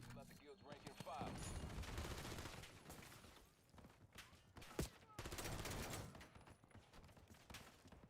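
Automated turret gunfire in Call of Duty Black Ops 7, loud sustained bursts of game shooting that pause briefly midway around a sharp blast, then resume, with game audio layered throughout.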